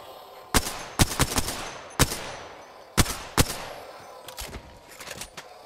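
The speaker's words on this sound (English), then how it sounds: "The enemies are shooting at me." Enemy gunfire in Apex Legends cracks out in sharp, irregular shots and short bursts, some close and loud, others softer and farther off, spread across several seconds with no speech.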